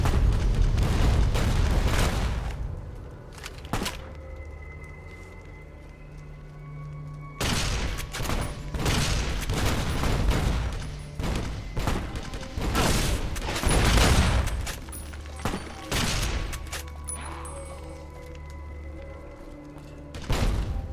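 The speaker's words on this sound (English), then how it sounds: "It feels like it's a rocket launcher machine gun." Rapid explosive rocket launcher and machine gun fire in Fallout New Vegas, loud rolling bursts of booms and shots in several waves separated by brief quieter gaps.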